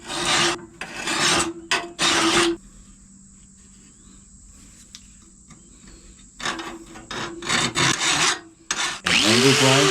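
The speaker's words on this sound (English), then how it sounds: "Whether you're using a metal file," A metal file rasps against a lawn mower blade in rapid bursts of harsh scraping strokes, close and loud, separated by a long quiet pause before the rhythmic filing resumes.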